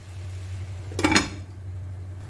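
A metal lid set onto a pot of cooking pancit sotanghon, one short clinking clatter lasting about half a second over a steady low kitchen hum.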